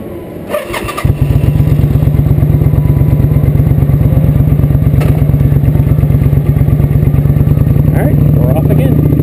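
A motorcycle engine fires up after a second of quieter rumbling, then settles into a loud, steady, close running drone on a night ride.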